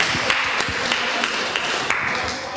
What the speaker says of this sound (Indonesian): kita beri tepuk tangan ini ya